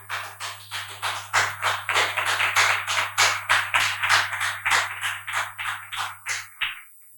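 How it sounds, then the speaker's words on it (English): Audience applause after a conference talk on Cuis Smalltalk, a steady wave of hand clapping from a crowd that builds, holds for several seconds and then thins out and stops, with no talking. "It's not me that you are clapping."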